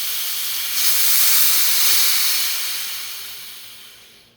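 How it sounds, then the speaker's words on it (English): Compressed air vents from a high-pressure HPA airsoft tank in a loud, steady hiss that swells after a moment, then tapers off to silence over a few seconds. "I'm gonna release the air"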